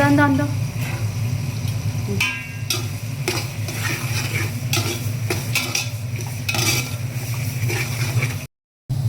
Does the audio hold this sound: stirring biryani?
yes